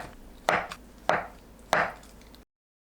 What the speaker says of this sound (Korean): 한입 크기로 썰어서 준비합니다.